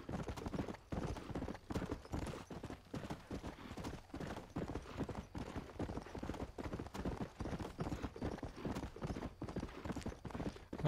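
Horse hooves galloping in the video game Red Dead Redemption, with rapid, steady clip-clop beats continuing throughout, moderately loud and close.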